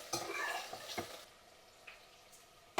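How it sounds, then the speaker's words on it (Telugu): Thinly sliced onions hit hot oil in a pan with a soft crackling sizzle and a few stirring clatters, fairly quiet and close, fading to a low hiss. "ఇప్పుడు మనం సన్నగా తరుక్కున్న 2 ఉల్లిపాయలు అయితే వేసేస్తున్నానండి."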